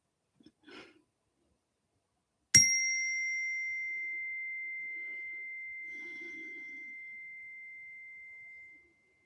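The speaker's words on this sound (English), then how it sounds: "going to ring the bell to clear the energy." A single bell rung once to clear the energy during an online reading session, a sharp strike followed by a long, pure ringing tone that slowly fades over several seconds, alone and clear.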